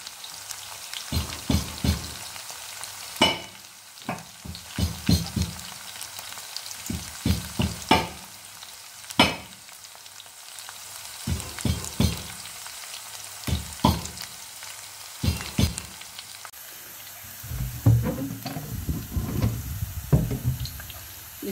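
Green chilies, onion and curry leaves fry in oil for brinjal chutney: bursts of crackling sizzle and spatula stirring come in uneven clusters, ending with a denser, louder stretch of frying.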